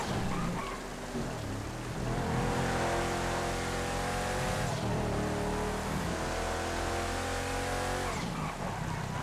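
Dominator 645 car in GTA accelerating hard from a standing start, a loud close engine rising in pitch through repeated gear changes over a steady roar.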